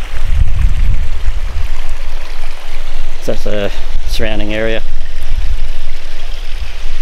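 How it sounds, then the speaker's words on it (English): Water trickles steadily in a small stream in quiet bushland near Lake Kerford, a continuous gentle rushing, with someone speaking briefly partway through. "All we can hear is the trickle of the water."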